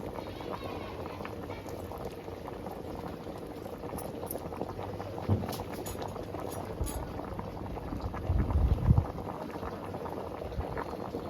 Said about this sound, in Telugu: ఇప్పుడు ఉడుకుతుంది కదా